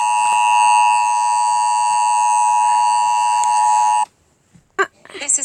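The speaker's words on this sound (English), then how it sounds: "EAS test." An Emergency Alert System test tone sounds loud and steady for about four seconds, then cuts off abruptly before a voice begins speaking.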